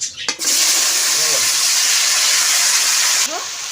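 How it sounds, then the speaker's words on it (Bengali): Potatoes and taro drop into hot oil left from frying fish: a short clatter, then an abrupt, loud, steady sizzle that holds for about three seconds before easing off. "মাছ ভাজা তেলের মধ্যে আলু কচু একসঙ্গে দিয়ে দেব।"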